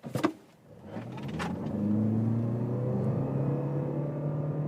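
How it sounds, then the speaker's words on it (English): A 2024 Toyota C-HR GR Sport hybrid in sport mode pulls away from a standstill, its drivetrain hum rising steadily in pitch from inside the cabin after a couple of short clicks, moderately loud with no talk. "Let's put it to the sport mode here and acceleration 0 to 60."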